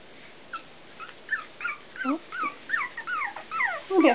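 Cavalier puppies whimper and whine in a string of short, rising and falling cries, close and clear, growing more frequent and insistent toward the end with no one talking.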